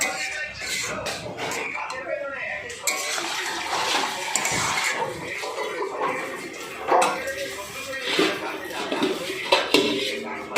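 Potato greens being stirred in a cooking pot with salt and turmeric, a spoon clanking and scraping against the metal in irregular strokes while someone speaks over it.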